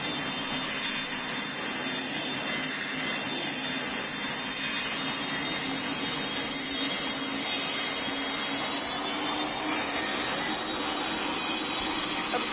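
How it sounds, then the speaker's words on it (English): A Boeing 747 takes off in the flight game PTFS, a steady loud jet engine roar holding evenly throughout with no talk. "Oh, we've got a Boeing 747. Taking off, Boeing 747."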